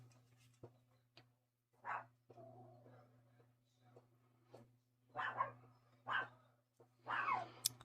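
A dog outdoors barks in short separate bursts, about five barks spread unevenly with pauses between them, fairly close, over a low steady hum.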